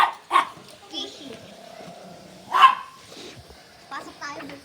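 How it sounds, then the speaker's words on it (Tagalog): A dog gives a few sharp barks and yips at close range in a shop or mall setting, heard between lively talk from several people. "At may aso."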